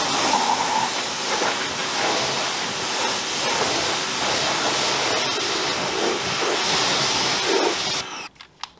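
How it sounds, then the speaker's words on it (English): Greenworks 1700 PSI pressure washer rinsing through a budget spray gun, a steady loud hissing water spray running almost continuously before cutting off abruptly near the end, followed by a few faint clicks. "So let's see how it rinses."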